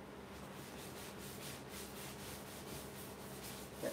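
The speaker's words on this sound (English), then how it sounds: "And rub it in so it doesn't get flung off." A hand rubs finish into a turned wooden fruit bowl, giving a soft, steady, close scuffing rub with even strokes throughout and no talk.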